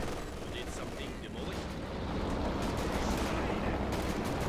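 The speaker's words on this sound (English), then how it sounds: "Katyusha coming into the MG mortar area. Not getting too much done with that barrage though." Katyusha rocket barrage in the Company of Heroes 2 battle game, a dense continuous roar of explosions and gunfire-like crackle that swells louder in the second half, with a voice talking over it.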